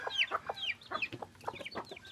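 Backyard chickens cluck and squawk repeatedly while pecking at rice scattered as feed. The calls are close and busy, with short bursts in an uneven rhythm over a soft low background.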